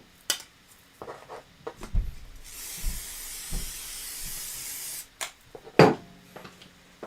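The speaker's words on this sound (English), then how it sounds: "I'm going to spray all 3 of them" Aerosol spray hisses steadily for about two and a half seconds as it coats three fabric pieces, green, red houndstooth and red leather, with a few soft handling knocks and rustles before and after.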